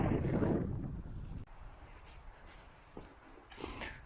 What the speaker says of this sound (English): The wind is chucking her through though.